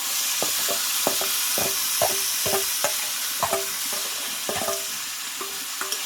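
Mutton pieces going into a pan of oil-fried spice masala, with steady sizzling and repeated scraping stir strokes in an uneven rhythm, close and fairly loud with no talking.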